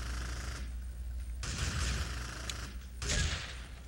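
A fireteam in the tactical shooter Full Spectrum Warrior opens fire, with two loud bursts of rifle fire separated by a brief lull over low battlefield rumble.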